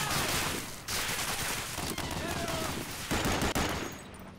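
Dense, continuous gunfire in the WWII shooter Medal of Honor: Allied Assault, with machine gun bursts and scattered shots layered into a loud, busy battle din that runs for the whole stretch without letup.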